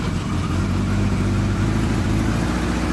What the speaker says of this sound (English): Now the revs are up a bit, about 1500, because the choke's out, which is to be expected.